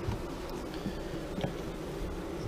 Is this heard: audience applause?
no